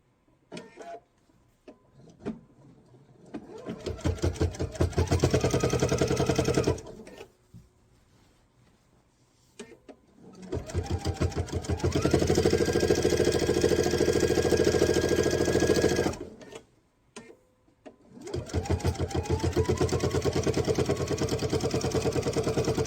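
A sewing machine stitches down a knife-edge facing quilt binding in three long, loud bursts, each with a rapid whirring needle rhythm, separated by short pauses with faint handling noises.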